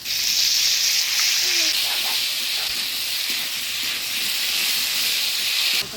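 Spice paste hitting a hot pan for a Bengali fish-and-potato curry, a loud steady hiss of sizzling that runs unbroken and close throughout, slightly rising in intensity after the first couple of seconds.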